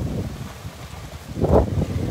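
Strong storm wind buffets the microphone outdoors during a clothing sale held in a heavy gale, a low rumbling roar that surges into a louder gust near the end, with no talk.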